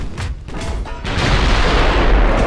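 Heavy 15-inch naval guns fire in the Ultimate Admiral: Dreadnoughts naval battle game, a deep booming salvo that rolls into a loud sustained rumble, close and with no talk.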